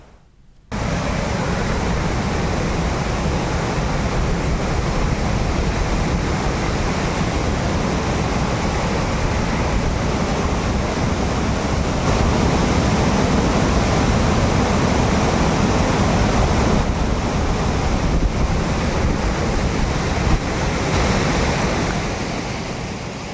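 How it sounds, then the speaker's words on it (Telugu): Heavy flood water rushes through the Yeleru canal near Kakinada in a steady, loud, broadband roar that continues without a break after a brief quiet start. No one speaks. "ఏలేరు కాల్వకి గతంలో ఎప్పుడూ లేనంత వరద వస్తోంది"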